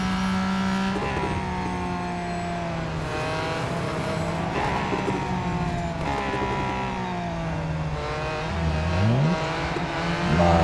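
A Ford GT Le Mans racing car in the mobile racing game Real Racing 3 revs hard through corners, engine pitch rising and falling through gear changes with other cars around, loud and continuous.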